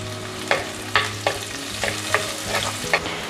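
Onions and crushed curry leaves fry in a pan for a fish curry, a steady sizzle punctuated by about seven sharp scraping stirs at a regular pace, close and clear with no talk.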